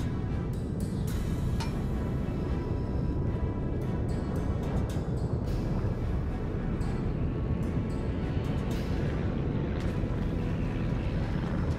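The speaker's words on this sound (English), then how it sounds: "Fighters start incoming. Rearming Group 4, my bomber squadron." In World of Warships, fighter and bomber squadrons launched from a US Independence class aircraft carrier drone loudly and continuously, with a dense engine roar and brief clicks on top.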